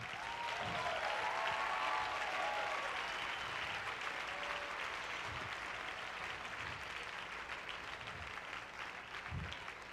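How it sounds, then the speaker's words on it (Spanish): A church congregation applauds during a worship service, a dense, steady wash of clapping from many hands that holds for the whole stretch, loud and unbroken. "Vamos a dar un fuerte aplauso."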